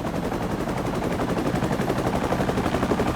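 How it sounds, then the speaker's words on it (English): A synthesized helicopter created with Krotos Igniter, rapid steady rotor chopping pulses over a dense low rumble, continuous and loud with no talking. "helicopters"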